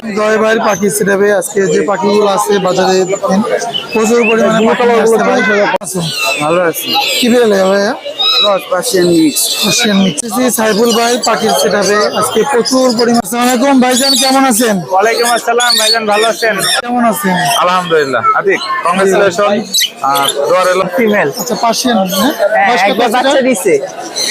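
A dense chorus of pigeons, mynas and other birds chirps and coos at the crowded Mirpur 1 bird market in Dhaka, with people talking loudly over them the whole time.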